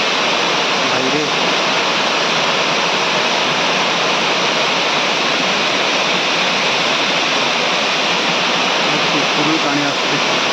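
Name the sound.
flowing water at Ashokjhar waterfall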